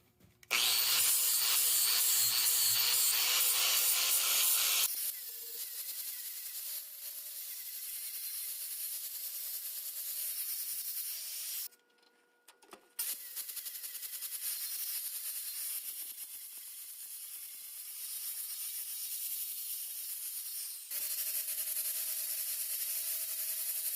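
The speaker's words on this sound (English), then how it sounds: "Now we'll go ahead and delete all this excess weld." Machining off excess weld on a pot metal valve cover for a Case 310 dozer, held in soft vise jaws: a loud harsh grinding start, then a long steady high whine with a short break midway.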